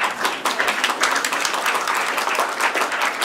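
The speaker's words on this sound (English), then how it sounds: "all in one go, and then you can clap at the end" An audience applauds steadily at a mock retrial of Dr Crippen held at Islington Museum, following the verdict, with dense sustained clapping that holds at an even level from a crowd in a room.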